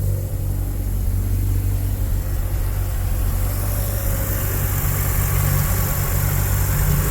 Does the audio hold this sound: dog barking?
no